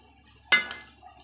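A single round ball of vegetable Manchurian mix drops into hot oil, a sudden sharp splash-hiss that fades quickly over about half a second, close and alone.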